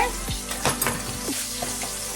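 Food sizzling steadily in a pan, seasoned with a pinch of salt, while a utensil stirs it and scrapes the pan a few times, heard up close with no talking.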